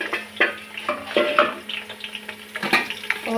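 Onions browning in a pan for beef Peshawari pulao, a close sizzle broken by irregular stirring scrapes and clinks of a utensil against the pan.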